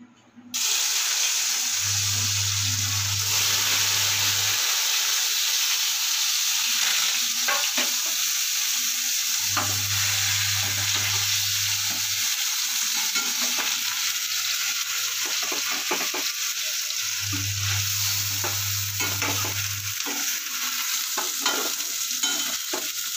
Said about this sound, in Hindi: चलो अब इस पनीर को हम करेंगे फ्राई। अभी घी हमारा गरम हो गया है,